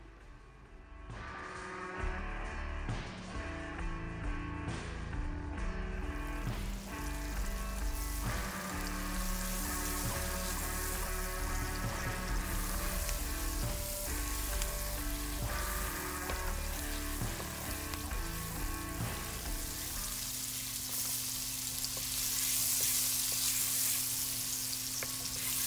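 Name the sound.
curry paste frying in a pan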